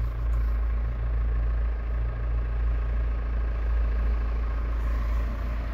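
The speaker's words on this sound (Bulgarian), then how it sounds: "Ето колата, искам да я чуете просто как работи." A 2014 Peugeot 308 with a 2.0 BlueHDi diesel engine idles steadily, a smooth, even low rumble with a faint mechanical hum that holds at constant volume throughout, close and alone without any talking.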